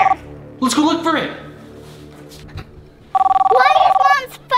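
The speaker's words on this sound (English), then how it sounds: "Do you hear that? The phone's somewhere in here." A telephone ringing from under a bed, two loud bursts of trilling electronic ring separated by a gap, with a voice speaking between them.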